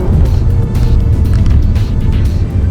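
The 190 PS petrol engine of a 2020 Volkswagen Tiguan Allspace with automatic gearbox and 4Motion drive gives a loud, deep, steady drone in sport mode, heard close and continuous.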